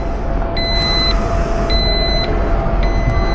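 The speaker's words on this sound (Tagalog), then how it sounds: "Ayan na yung alarm niya." A motorcycle disk lock anti-theft alarm on a Yamaha Nmax sounds loudly in three repeated tonal beeps, evenly spaced, over a constant low rumbling background.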